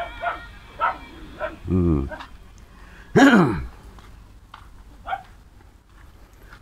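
Near a roadside vegetable patch, a dog barks a few times, with a couple of sharp yaps and one louder bark, close by and fairly loud, while a person murmurs briefly.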